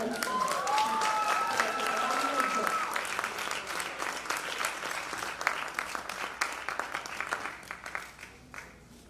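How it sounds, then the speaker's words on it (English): Dense audience applause at a Bharatanatyam Rangapravesha debut recital, honoring the artists, the young debutante and her mother. It starts loud and full, with a thin sustained tone over the first few seconds, then slowly thins and fades. "Let's all give her a round of applause,"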